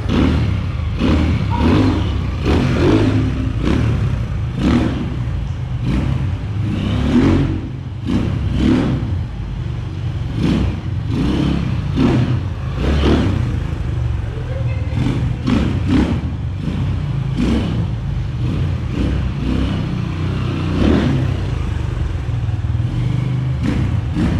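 An XR 200 motorcycle engine revs repeatedly up close, loud rhythmic bursts of throttle over a steady rumbling idle, with no talk.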